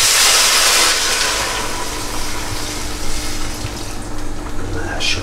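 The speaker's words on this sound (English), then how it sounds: "I add water." Water pours into a pan of softened, browned vegan sausage casserole on the stovetop, giving a steady splashing rush that fades toward the end, with no talking.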